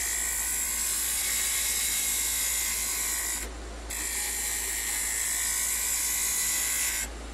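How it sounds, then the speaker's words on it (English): A skew chisel cutting wood on a lathe while turning a chess pawn gives a steady, loud high-pitched hiss, broken by one short pause in the middle and easing off near the end. "I'm going to switch to a slightly smaller skew chisel."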